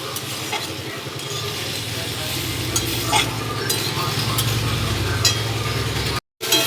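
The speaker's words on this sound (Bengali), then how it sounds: "মশলাটাকে আমি ভালো করে কষিয়ে নিচ্ছি।" Spice masala fries and is stirred in a pan, giving a steady loud sizzle with scraping and occasional clinks of the spoon, briefly cut off near the end.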